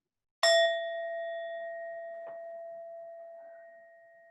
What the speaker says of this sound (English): Listen to this bell ring.